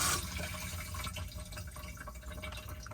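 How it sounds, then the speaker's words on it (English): A cassette toilet flushes in an Auto-Sleeper Warwick Duo motorhome, a steady rush of running water filling the bowl from start to finish, close and fairly loud, with no voices. "open the blade, use the toilet, flush it after use"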